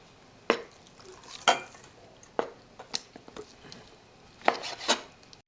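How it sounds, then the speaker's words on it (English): Meat is chopped into small pieces on a board, with sharp, irregular knife strikes close by and a faint background sizzle of frying in a pan. "I gotta chop the meat"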